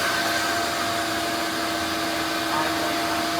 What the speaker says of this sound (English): so the vacuum former is on.